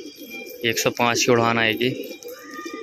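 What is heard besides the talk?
pigeons cooing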